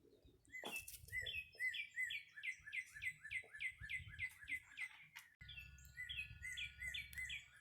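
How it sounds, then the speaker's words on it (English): Birds chirp steadily outdoors in a rapid series of repeated tweets, fairly close and clear, with a low background rumble and no talking. "Hear the birds chirping?"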